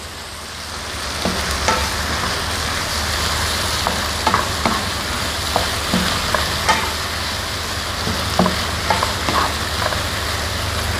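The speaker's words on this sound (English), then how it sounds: "Stir another 10 seconds," Yellow curry with seitan, spring onion and celery being stirred in a frying pan, a steady sizzle with scattered scraping clicks of the utensil against the pan, close and continuous.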